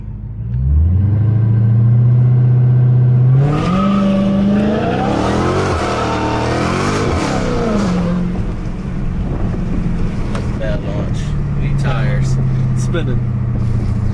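A Dodge Hellcat launches hard on launch control, its engine climbing in a loud rising roar with a tire-spinning shriek, then settling into a sustained heavy drone as the car keeps spinning; a voice talks briefly over it.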